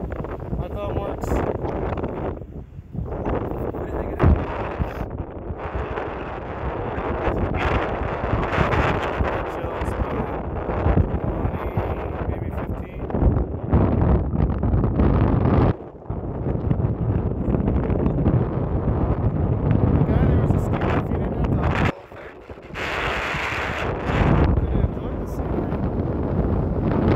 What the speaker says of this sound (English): I don't even know if you can hear me, it's so windy up here.